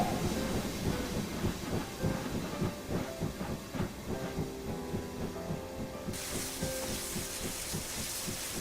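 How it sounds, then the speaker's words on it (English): A model steam engine is shunted into a bay platform at a station, with rhythmic wheel clatter and hissing steam that rise and fall steadily throughout, then a brighter hiss joins near the end. "shunted Simon into one of the bay platforms"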